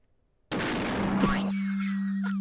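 Explosion in the horror video game Observation Duty: a sudden loud burst of noise that cuts in from silence and holds for about a second, then gives way to a steady low hum with a faint whine.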